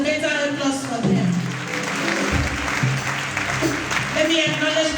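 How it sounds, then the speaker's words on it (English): Applause for university deans at an inaugural lecture at the University of Uyo, a crowd clapping continuously while voices speak over it. "Please, a better applause for them"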